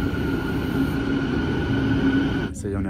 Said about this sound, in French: Voilà le métro.